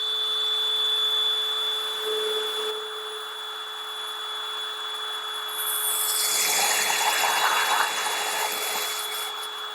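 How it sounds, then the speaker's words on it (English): A power drill whines steadily as it bores into material, the pitch and grit rising partway through as the bit bites deeper, loud and close. "I'm going to drill my hole."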